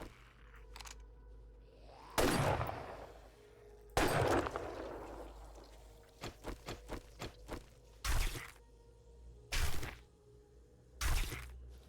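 Hunting rifle shots in the video game 7 Days to Die, several loud sharp cracks at irregular intervals, with a quick run of lighter clicks and thuds between them and no talk.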